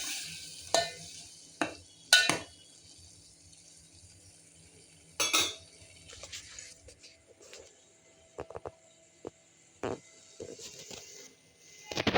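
Cooked lentils going into a pot of palak sambar and being stirred, with a few close bursts of scraping and clinking from a spoon against the pot between quiet stretches.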